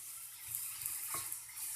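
Tomatoes for pasta sauce cook in a pan, giving a faint, steady high sizzle with a few soft pops and one brief clink, no talking.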